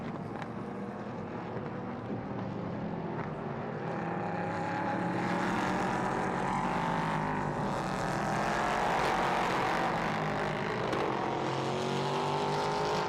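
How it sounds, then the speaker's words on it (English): An LMP3 prototype racing car engine drones and whines from a distance during qualifying at the Nürburgring, steady and sustained, swelling slightly louder as it carries on without pause. "It's Max that is out in the car right now"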